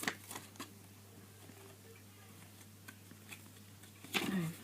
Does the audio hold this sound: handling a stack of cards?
yes